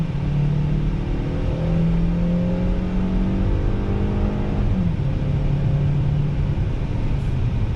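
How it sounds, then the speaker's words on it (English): A 2020 Hyundai Tucson Ultimate compact SUV pulls out of a right-hand bend under throttle, its engine note rising steadily in pitch as it accelerates, heard muffled from inside the quiet cabin with constant road rumble beneath. "Back on throttle."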